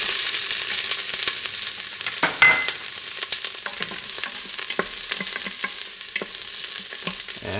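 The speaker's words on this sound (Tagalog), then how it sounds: "ilalagay na natin yung sibuyas" Onions sizzle steadily while frying in an Instant Pot, a close, constant hiss broken by occasional stirring scrapes and clicks.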